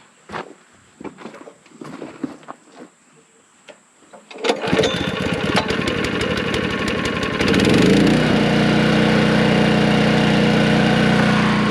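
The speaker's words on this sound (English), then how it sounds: "Crank generator." A Honda generator cranks and fires up outdoors, then runs at a steady, loud drone after a few seconds of quiet footsteps and handling noise, with the engine note rising and settling into a continuous hum.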